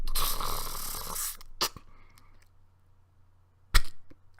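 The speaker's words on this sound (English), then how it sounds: "And that was the sound of playing Russian roulette with a Nerf gun." A Nerf gun in a game of Russian roulette: a burst of rustling and handling, then a couple of sharp clicks and a snap, then a quiet pause before a loud crack-like hit near the end.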